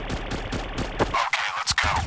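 Rapid bursts of automatic gunfire in the chicken shooter game Chicken Gun, loud and close, a steady run of shots followed by a few scattered heavier reports.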